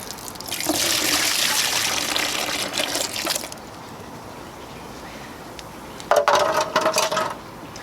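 Liquid drains from the air-conditioning of a SAAB 9-3 into a tray, with a loud splashing gush followed by a quieter lull and a second short burst of trickling and pouring.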